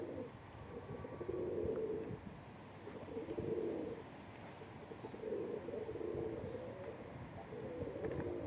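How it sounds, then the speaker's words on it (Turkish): Pigeons coo in repeated low, throaty phrases, a few seconds apart, over a steady background murmur. "Kuşlar keyif yapıyor."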